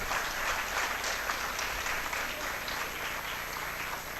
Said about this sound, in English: Let's welcome them on stage with a huge round of applause,